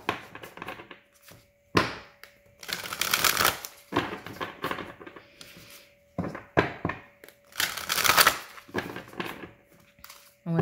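A deck of tarot cards is shuffled in bursts of riffling and sliding, with short pauses between rounds, close and moderately loud with no voices.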